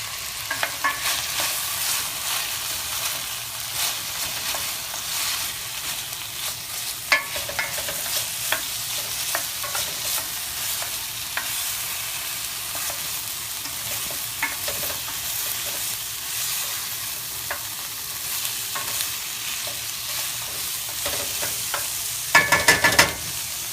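Food sizzles steadily in a hot pan as it is stirred, a continuous close frying hiss with occasional scraping and clinking of the utensil against the pan throughout.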